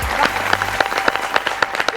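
An audience applauds after a lively stage performance at a family function, steady clapping with sharp individual claps throughout, close and moderately loud, with a faint voice underneath.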